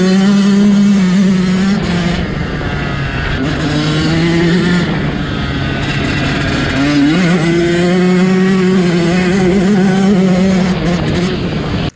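A Yamaha YZ125 two-stroke dirt bike engine runs loud and close throughout, its buzzing pitch rising and falling as the throttle is blipped during warm-up, with no talk over it.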